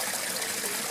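Stream water flowing steadily over and through a porous basket held in a small bush creek waterfall in the Blue Mountains, a continuous close, full-bodied rush and trickle with no voices.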